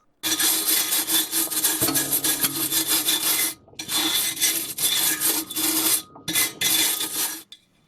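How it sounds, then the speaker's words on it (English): Wire brush scrubbing the exhaust mid pipe of a 2004 Infiniti G35X during a muffler replacement, loud close-up rasping strokes repeated in quick back-and-forth bursts with brief pauses. "Cleaned up the mid pipe with a wire brush."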